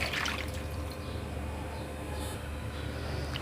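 Half a cup of water poured into a cooking pot for a chicken karahi, a short close pouring and splashing over a steady low kitchen hum.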